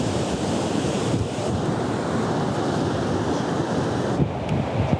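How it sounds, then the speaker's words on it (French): Ocean surf breaks on a Basque Country beach, a continuous loud wash of crashing waves mixed with wind buffeting the microphone, steady and close with no talking. "Aujourd'hui, les vagues, elles sont un petit peu grosses."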